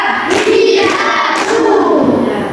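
Classroom group clapping hands in a counted pattern, loud close claps in short bursts with brief gaps between sets, a voice barely present.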